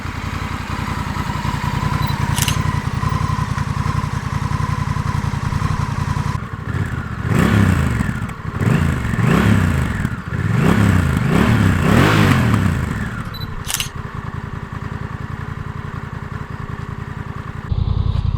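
A Honda CMX 1100 Rebel with dual clutch automatic transmission idles steadily, then revs and accelerates in several rising surges that pull away and fade, leaving a quieter engine note at the end; loud and close, with no speech.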